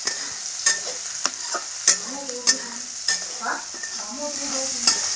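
Cauliflower florets fry in hot oil for Cauliflower Manchurian and are stirred in a pan, giving a steady sizzle broken by repeated sharp scraping and clinking strokes of a spatula against the metal.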